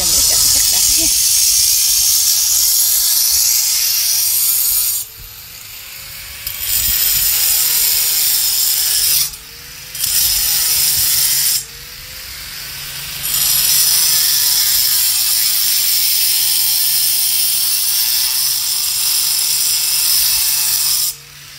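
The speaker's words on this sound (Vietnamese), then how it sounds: "cái cưa mà cắt đá mà đứt luôn á" A loud, steady high-pitched grinding whine of a saw cutting stone, stopping briefly a few times, with voices talking under the noise.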